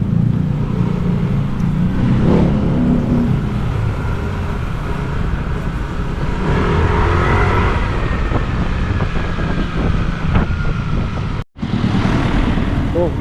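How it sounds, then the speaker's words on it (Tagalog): A tow truck and a police vehicle passing on a road, a steady loud motor rumble with wind buffeting the microphone, engine swelling as the vehicles go by, with a brief dropout near the end. "Oh, yung pulis na to. Tow truck."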